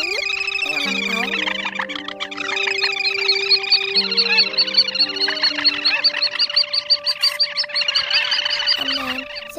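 A loud recorded call lure of quốc biển birds, used for night net trapping, fills the air with dense layered chirps, trills and whistles that pulse rapidly and continuously, close and with no speech.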